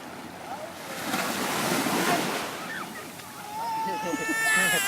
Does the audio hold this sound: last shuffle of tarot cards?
no